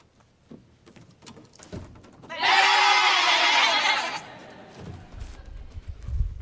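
A sheep lets out a single loud, drawn-out bleat close by, lasting over a second amid scattered quieter knocks and shuffles.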